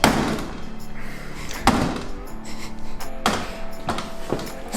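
A door is slammed shut several times, giving four loud, close bangs spaced a second or two apart, each followed by a short rattle.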